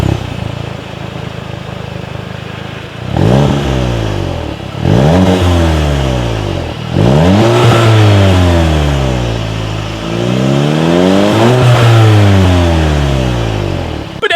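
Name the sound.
2017 Volkswagen Golf GTI dual exhaust revving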